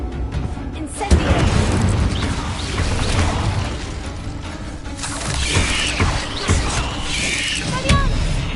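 Spells are cast during Hogwarts Legacy combat, including the Incendio fire spell, producing repeated whooshing blasts, booms and crackling bursts, loud and dense throughout.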